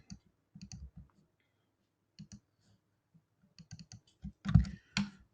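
Short bursts of keystrokes on a computer keyboard, a few quick clicks at a time separated by pauses, then a louder cluster of taps near the end, close and fairly quiet with no voices.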